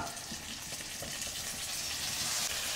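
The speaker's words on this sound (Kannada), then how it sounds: "ಎಣ್ಣೆಯಲ್ಲಿ ಸ್ವಲ್ಪ ಫ್ರೈ ಮಾಡೋಣ ನೋಡಿ. 1 ಸ್ಪೂನ್ ಜೀರಿಗೆ, ಒಂದೇ ಒಂದು ಟೊಮೊಟೊ ಹಾಕೋಣ." Cumin and tomato frying in oil with curry leaves, a dense, steady hiss and crackle close up, with faint soft clicks underneath and no talk.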